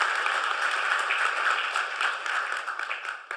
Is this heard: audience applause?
yes